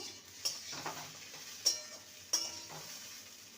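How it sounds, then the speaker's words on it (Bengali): Spiny gourd and potato fry over a low flame in a pan, a soft steady sizzle under several sharp scraping clinks of the spatula stirring, close and moderately quiet, with no voices. "প্রায় চার থেকে পাঁচ মিনিট লো ফ্লেমে রেখে রেখে আমি কাঁকরোল আর আলুকে ভালো মতন ভেজে নিয়েছি"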